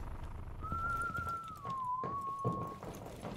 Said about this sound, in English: I swear I just heard a whistle